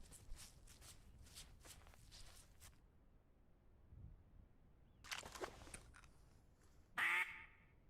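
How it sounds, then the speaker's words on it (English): A duck quacks once, sharp and fairly close, in a hunting video game, following soft footsteps and shuffling in otherwise quiet surroundings. "Thought I heard a quack."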